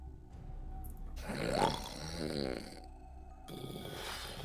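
A person imitates loud snoring with a few drawn-out, rough, rumbling snorts broken by short pauses, close to the microphone and fairly quiet overall.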